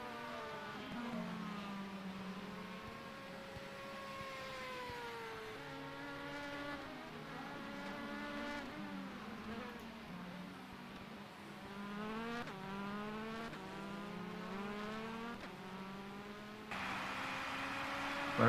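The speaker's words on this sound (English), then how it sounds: "back on the track, so good stop for Alexis Capano in the Anbu racing machine" Race cars, including a black BMW sponsored by MSI, lapping a circuit, engines rising and falling in pitch as they pass at a distance, steady and continuous with no talk.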